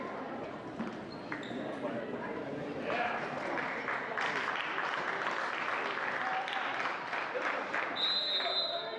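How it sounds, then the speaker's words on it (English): Crowd applause from a high school student section fills an indoor gym during a boys basketball game, steady and loud throughout, with people's voices mixed in and a faint high squeak near the end. "Panther student section applauding for Gehring wiping the court off"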